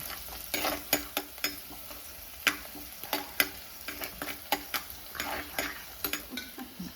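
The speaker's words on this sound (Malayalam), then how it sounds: "വെളുത്തുള്ളി ചെറുതായിട്ട് അരിഞ്ഞത്, ഒരു 3-4 വെളുത്തുള്ളി ഉണ്ട്. മീനിൻ്റെ അനുസരിച്ച് വെളുത്തുള്ളി അതും ജസ്റ്റ് ഒന്ന് സോട്ട് ചെയ്ത്" Chopped garlic sautéing in a pan for Kerala-style fish curry, a quiet steady sizzle punctuated by a regular series of sharp spatula taps and scrapes.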